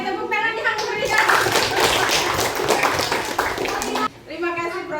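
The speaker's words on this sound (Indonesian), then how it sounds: "Oke, tepuk tangan yang berikan." Children clapping in a classroom, a lively burst of quick handclaps lasting about four seconds, with a teacher's voice before and after and kids chattering.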